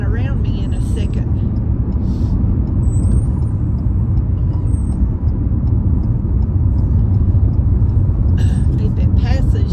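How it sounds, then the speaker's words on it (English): Truck passing on the road, heard as a steady, loud engine and tire roar with faint hiss and squeal, from inside a vehicle during a drive to the vet. "Here it goes, that truck."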